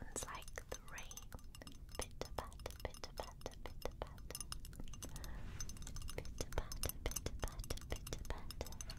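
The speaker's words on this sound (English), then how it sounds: "again it's made from glass. And it sounds like the rain." Small glass objects clinking and tapping in a soft, rain-like patter of rapid light ticks, close and quiet under gentle whispering.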